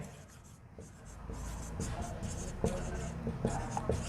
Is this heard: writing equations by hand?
yes